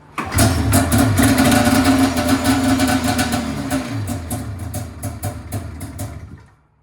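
Polaris RMK snowmobile with a nitrous oxide fueled engine firing up for the first time, a loud rough sputtering run that steadies briefly, gradually weakens and then cuts out near the end.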